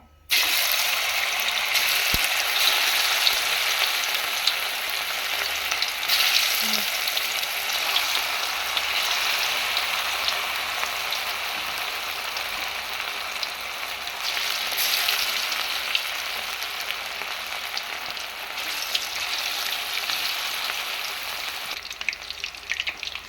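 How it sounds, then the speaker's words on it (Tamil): Chicken 65 pieces frying in hot oil, a strong continuous bubbling sizzle that fills the whole stretch, close and steady with slight swells, no voices. "இப்போ நம்ம வந்து எண்ணெயில் போட்டுருவோம்"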